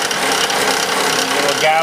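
Gouge cutting a bud vase made from a two-by-four as it spins on a wood lathe: a steady, loud, close rasping scrape with no pauses.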